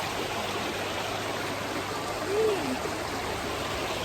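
A stream of water flows in a steady, moderately loud rush outdoors, with a faint brief tonal sound partway through and no talking.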